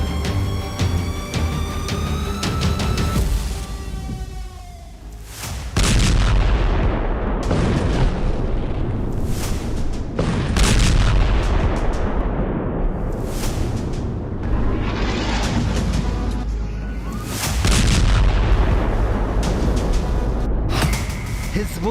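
Explosions from an Israeli strike on Yemen: heavy booms and blasts, loud and dense, one after another with rumbling between them.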